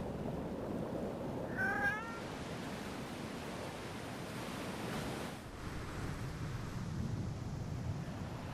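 A cat in the game Foolish Mortals gives a single short meow early on, over a constant roar like surf and wind that runs the whole time.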